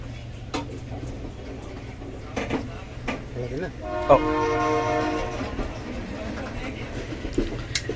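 A passenger train on the Colombo to Batticaloa line in Sri Lanka rumbles faintly around a moving carriage, with a brief horn-like tone in the middle and voices speaking over it.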